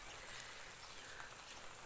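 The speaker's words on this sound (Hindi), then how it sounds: "कितनी बारिश हो रही है हमारी उत्तराखंड में" Heavy morning rain in Uttarakhand falls as a soft, even hiss of drops, faint and distant, with no voices.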